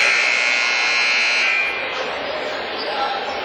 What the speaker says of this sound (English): the officials heard a horn from the crowd